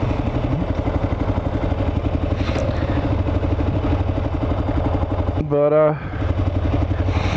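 A 2008 Kawasaki KLR 650 motorcycle, recently fixed with a rust-cleaned fuel tank and cleaned carburetor, idles steadily up close with a throbbing, clattery rhythm; someone talks over it, with a brief higher whine near the end.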